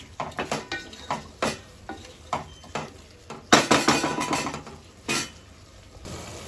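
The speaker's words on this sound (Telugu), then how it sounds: "ఇప్పుడు స్టవ్ మీడియం ఫ్లేమ్లో పెట్టేసుకొని ముక్కలన్నీ ఉడికించేసుకుందాం" A spoon scrapes and stirs vegetables cooking in yogurt masala gravy in a pot, giving a steady run of clinks and scrapes with a soft sizzle underneath and no voice.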